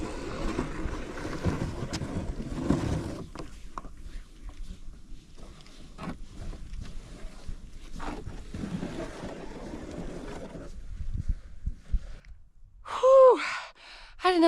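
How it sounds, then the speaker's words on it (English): A small kayak dragged by hand over dirt and mud on the shore of Alder Lake gives a continuous rough scraping and rustling with effortful breathing and gasps, close up, then briefly fades to near quiet before a sharp noise at the end. "So we're going to get out and we're going to pull the kayak over because that will cut off significant time."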